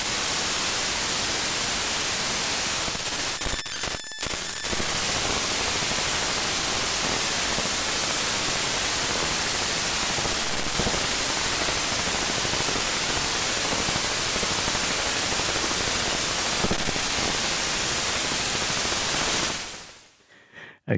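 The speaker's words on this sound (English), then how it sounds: "play the data that's in that file, imagining that it's 16-bit digital audio" Raw data from a scanned book file, played back as 16-bit digital audio, comes out as a dense, loud, steady hiss of static noise lasting about twenty seconds, with a brief dropout partway through before it cuts off.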